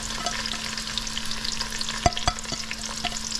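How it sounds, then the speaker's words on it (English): Aromatics sauteing in butter and avocado oil for a thick-leaf callaloo bhaji with dried shrimp, giving a steady, close frying crackle with a couple of sharper pops and utensil taps, no voices. "we're gonna put all our aromatics in there and just let them saute for a while."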